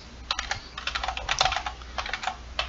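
Someone types on a computer keyboard while writing TypeScript code, a quick run of close, soft key clicks with no talking.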